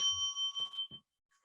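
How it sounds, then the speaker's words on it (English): A meditation bell rings out with a clear sustained tone, its bright partials holding for about a second before stopping abruptly, with soft scattered sounds around it and no one speaking. "bell is hit"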